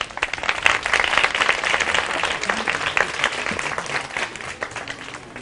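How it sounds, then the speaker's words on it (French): An audience applauds the candidates at a Senegalese children's competition, a dense, energetic burst of clapping that stays steady for several seconds with slight swells and no talking over it. "veuillez applaudir nos chers candidats"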